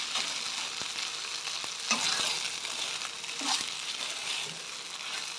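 Seafood fried rice with egg, onion and seasoning tossed in a hot pan, giving a steady loud sizzle with scraping stir strokes and a few clanks of the utensil, no voices.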